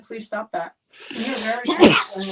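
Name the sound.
sneeze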